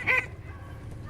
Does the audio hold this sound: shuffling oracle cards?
no